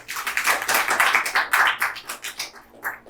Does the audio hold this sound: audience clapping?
yes